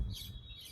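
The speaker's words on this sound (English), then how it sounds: "Those little green birds up there." Small green birds chirp high and thin in Manuel Antonio, Costa Rica, faint and distant in a brief burst with no talk.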